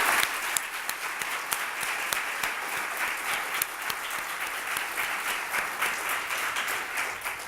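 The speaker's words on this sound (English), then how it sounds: "Let's have another round of applause for all of the amazing speakers this morning." An audience at the 2018 Eden Alternative International Conference applauds the morning's speakers, a dense, sustained clapping that fills the room steadily from start to finish.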